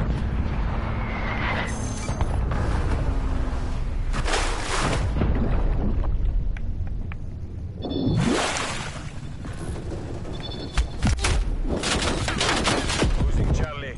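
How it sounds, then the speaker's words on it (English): Artillery strikes and rapid gunfire rage in a Call of Duty: Cold War match, dense bursts and booming impacts running almost the whole time, with a loud surge of blasts near the middle and players talking over the fighting. "Artillery inbound."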